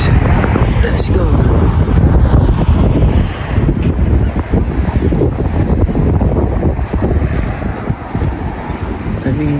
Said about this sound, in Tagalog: So ito yung tabing dagat ng Blackpool.